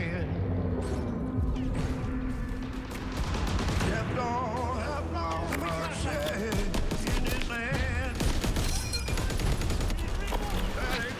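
Rapid gunfire in a World War II video game trailer: a thick fusillade of machine-gun bursts layered over music and crashes, with speech mixed in.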